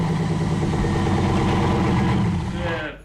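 A Chevrolet Camaro V8 engine idles with a steady low, throbbing rumble, loud and close, fading out in the final half second.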